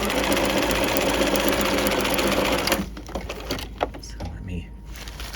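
A sewing machine stitches a side seam in a loud, continuous run at close range, then stops, leaving scattered handling clicks and a faint voice.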